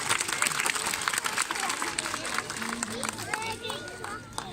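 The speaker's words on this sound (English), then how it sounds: "give Anya a big round of applause" At a zoo sea lion show in Blackpool, an audience claps in a dense, steady patter, with a presenter and other voices talking over and around the applause.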